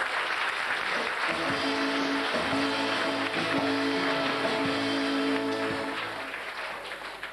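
Carnival audience applause at a 1988 carnival session in Gulpen-Lemiers, a dense continuous clapping under loud music with sustained tones, tapering toward the end.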